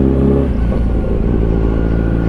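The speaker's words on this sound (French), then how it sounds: "Je passe les vitesses très très bas," A motorcycle riding without using the clutch idles and chugs at low revs, with a steady low rumble and slight clatter as it shifts gears.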